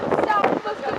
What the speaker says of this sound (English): we're still in the midst of Storm Abigail